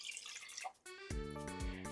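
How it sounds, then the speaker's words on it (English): Lukewarm water is poured into a large bowl, starting with faint trickles and drips before a fuller, ringing pour fills the bowl. "in a large bowl, we're going to get 1 1/3 cups of lukewarm water"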